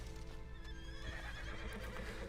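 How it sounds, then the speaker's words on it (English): A horse in the video game Red Dead Online neighs loudly over a dense, steady game soundscape with low rumbling and hoof clatter underneath. "Let's steal something from his horse as well."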